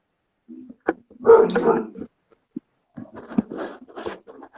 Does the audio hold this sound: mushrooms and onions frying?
no